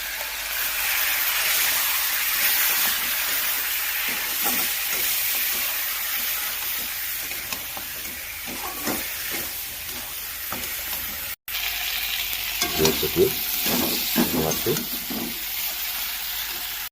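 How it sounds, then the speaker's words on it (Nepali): Mutton with ginger, garlic, onion, tomato and chili frying in a wok, a steady sizzle with scraping stirs and bursts of crackle, a voice speaking over it at times. "मजाले भुटियो मासु है कराईमै"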